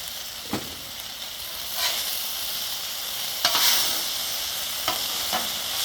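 Shrimp lo mein sizzles steadily while being stir-fried on a Blackstone griddle, a bright continuous hiss broken by a few sharp scrapes of the spatula against the flat top.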